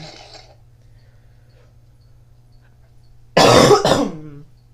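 A single sharp, loud cough bursts out close by after a quiet stretch, followed by a brief trailing rasp, set over a faint low hum from a Need for Speed Most Wanted game session.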